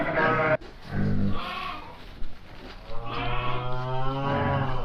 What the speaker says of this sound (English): So here's the bottle lambs.